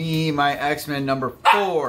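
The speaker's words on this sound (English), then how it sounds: "That's my dog." A pet dog barks and yips loudly and close by in a series of sharp, whining barks, overlapping a man's speech throughout.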